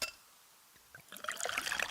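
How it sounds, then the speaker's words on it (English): Pepsi Zero Sugar cola poured into a glass, a close fizzing, trickling pour that starts softly and builds into bright crackling carbonation. "Listen to that endless pour."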